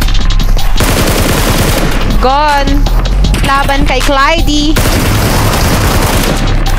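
Dense, rapid gunfire crackles through a PUBG custom game match, bursts of shots layered continuously under loud excited commentary from a voice talking over the action.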